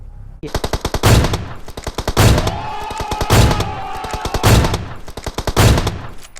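Rapid automatic gunfire from the battle-royale game PUBG Mobile, a loud, close, unbroken stream of sharp shots for over six seconds, swelling into heavier bursts about once a second, with a faint voice murmuring underneath.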